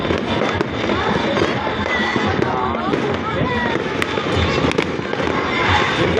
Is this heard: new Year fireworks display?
yes